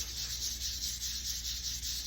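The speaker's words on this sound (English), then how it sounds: "We're back to hand sanding on 320 with a little bit of WD-40" Steady, rhythmic scratchy rubbing of 320-grit sandpaper with WD-40 worked by hand in figure-eight or circular strokes on a pocket knife's metal, close and continuous with no talking.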